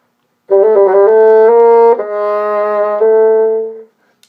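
Solo bassoon playing a Weissenborn etude #21 excerpt: a few quick leading notes settle into long, steady, resonant tones, ending with a held note that cuts off cleanly.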